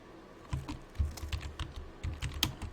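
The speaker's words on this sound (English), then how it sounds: "I'll go ahead and type it out the first time" Quiet, irregular typing on a computer keyboard, with soft keystroke clicks in uneven clusters over a steady low background hum.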